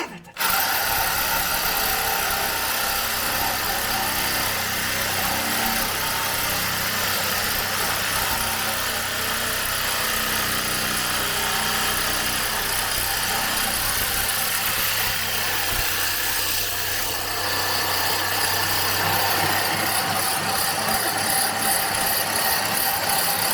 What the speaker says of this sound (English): I don't want to choose the death machine of the cutting wheel without a guard